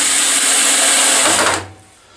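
A power drill drives screws into a wooden box to mount a ventilation fan, giving a loud, steady whirring burst for about a second and a half before it cuts off, with no talk.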